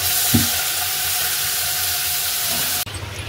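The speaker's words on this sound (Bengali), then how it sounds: "ভাজা হতে আর কতক্ষণ, গাছের টাটকা থোড় পুক করে হয়ে যাবে" Fresh banana stem frying in a pan, a loud continuous sizzling hiss with a single knock early on, cutting off abruptly near the end to quieter room noise.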